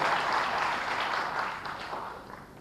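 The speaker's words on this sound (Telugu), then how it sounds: "అన్నిటికన్నా గొప్పది ఇప్పుడు మీరు కొట్టారే చప్పట్లు" An audience at a ghazal singing event applauds, a dense, steady clapping that gradually fades over a few seconds.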